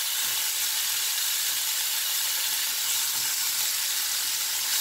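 Spam frying in a dry pan without oil, a steady, even hiss of sizzling that carries on unbroken throughout.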